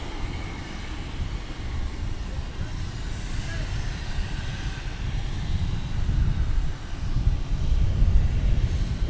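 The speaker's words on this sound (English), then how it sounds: "And here comes the flight from Maui. 777, everybody." Boeing 777 arriving from Maui at DFW Airport, a steady distant engine roar building slightly toward the end, moderately loud with no clear speech.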